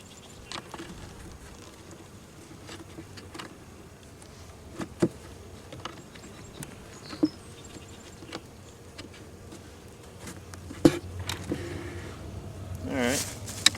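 Honey bees buzz faintly around an open hive during feeding with pollen patties, a soft steady drone with small knocks and rustles of handling, growing slightly busier near the end.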